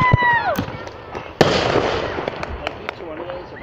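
Fourth of July fireworks burst nearby with a sharp bang, followed by a long crackling, sizzling tail and scattered pops, while a person's voice talks over the opening.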